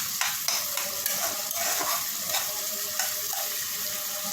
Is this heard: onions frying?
yes